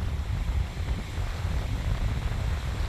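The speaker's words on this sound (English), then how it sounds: "you can see just how windy it is" Strong wind gusts across a beach, a loud continuous low roar of buffeting against the microphone with faint surf beneath, no voices.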